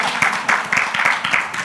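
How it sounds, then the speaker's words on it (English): An audience at a free speech conference claps in a short burst of quick, crisp handclaps, fairly close, alone with no talking over it. "you can all clap."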